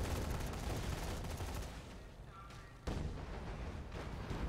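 Heavy booming explosions and gunfire-like bursts from the video game Dead Rising 3 roll together in a dense, loud barrage, dipping briefly before another sharp burst.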